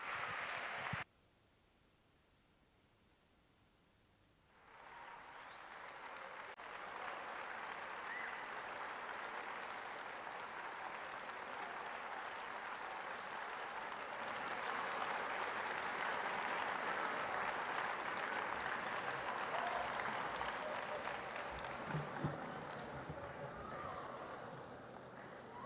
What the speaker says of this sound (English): let's give a huge round of applause to Francesco Tonucci